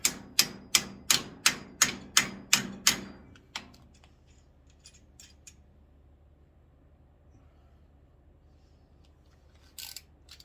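Nine sharp, evenly spaced metallic taps ring out in quick succession as a part is tapped into place, then stop; a faint clink follows near the end in a quiet room.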